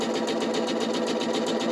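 A sewing machine runs steadily, stitching trim into a garment seam with a fast, even mechanical whir from start to finish and no voices.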